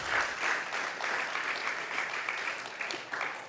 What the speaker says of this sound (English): So let's clap them.